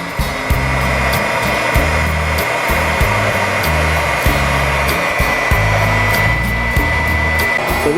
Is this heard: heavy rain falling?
no